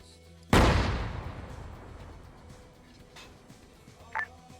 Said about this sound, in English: there's already a cannon shooting at you guys